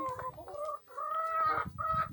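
A fighting rooster clucks close by in several short, throaty bursts with brief pauses between them, loud and clear against a quiet background in a garden.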